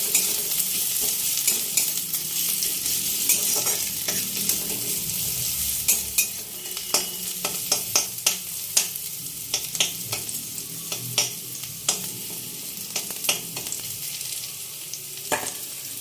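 Onion and garlic sizzle steadily in a hot pan for a Bengali pumpkin and Malabar spinach chorchori, close and continuous. Sharp stirring scrapes and clicks from a spatula cut through the frying, more often in the second half.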